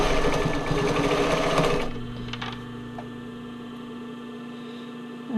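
Sewing machine zigzag-stitching the armhole of a Porcelynne Laurel sports bra, a loud steady close-up whir that stops after about two seconds, leaving a quiet motor hum.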